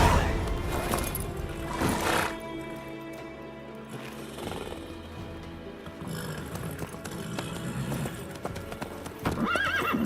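Horse hooves clip-clop at a steady gallop with loud whinnies at the start and end, set in The Witcher 3: Wild Hunt video game, with music and ambience underneath.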